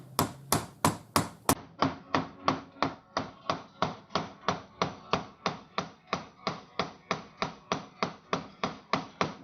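Hammer tapping a lubed bullet into the barrel of a .41 Colt revolver: about two dozen firm, evenly spaced taps in a steady rhythm, close and clear, the first few sharper and brighter, with no talking.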